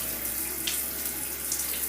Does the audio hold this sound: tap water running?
yes